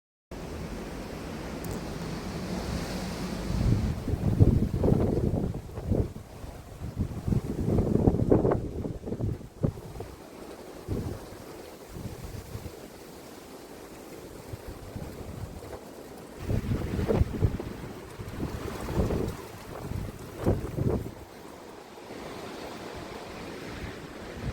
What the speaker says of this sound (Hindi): आज बहुत तेज़ से हवाएं चल रही हैं। तूफान आया हुआ